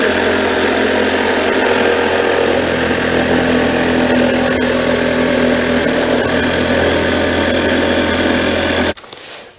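A power saw runs loud and steady as it cuts a wooden lid in two for a guinea pig pen, droning continuously before stopping abruptly near the end.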